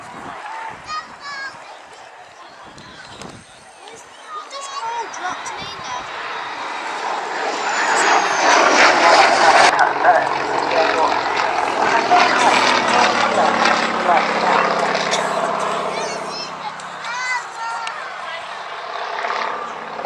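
Propeller-driven WWII Allied fighter at the RAF Cosford air show, its engine roar swelling from distant to loud and close as it passes overhead, then fading while a voice talks over it.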